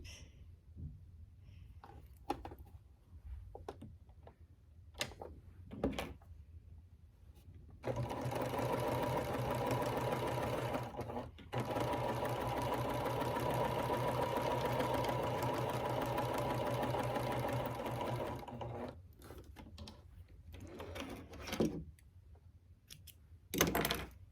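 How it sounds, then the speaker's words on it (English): A sewing machine runs for about ten seconds in one long steady whirring pass down the side of a quilt, close by, framed by soft fabric handling, clicks and taps before and after. "now we're going to sew down the other side."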